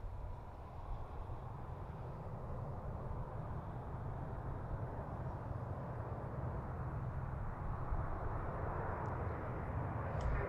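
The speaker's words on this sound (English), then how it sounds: "You get some good engine sounds there." A steady, deep roar of airliner engines at Baltimore-Washington airport rumbles continuously and evenly, slightly swelling toward the end, moderately loud and distant, with no voices over it.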